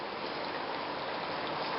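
Rain falls in a steady, even hiss, close and unbroken, with no voices.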